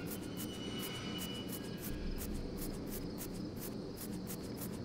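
Crickets chirping in the video game Deponia Doomsday, a steady pulsing rhythm of repeated chirps over a low continuous hum, even and moderately quiet.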